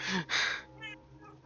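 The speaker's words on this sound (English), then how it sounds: "I have a cat that's begging for attention" A house cat gives a short, close meow or two, begging for attention, fairly quiet and brief.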